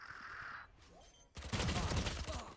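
Gunfire in the tactical shooter Valorant: after quieter ambient tones, a loud, rapid spray of shots bursts in and runs to the end.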